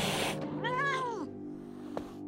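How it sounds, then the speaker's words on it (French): An angry cartoon cat lets out a single drawn-out, rising and falling meow, close and clear, following a burst of noise, with a soft thud afterward. "même les vraies filles de l'espace n'ont jamais eu à affronter la colère d'un félin"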